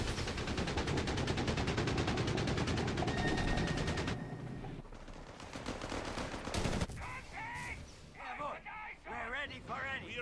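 MG42 machine-gun fire rattles in dense, rapid bursts during a Company of Heroes 3 battle, loud at first and then thinning out as in-game voices call out over the fighting.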